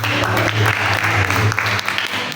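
A church congregation applauds during a sermon at an afternoon worship service, a short burst of clapping over a sustained low musical tone.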